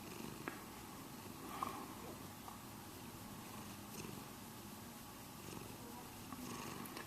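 A pet cat purrs steadily through a head scratch, a soft, close, continuous rumble with a faint occasional rustle and no talking.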